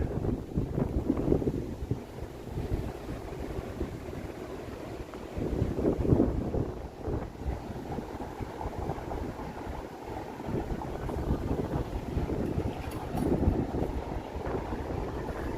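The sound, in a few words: wind in downtown Toronto alley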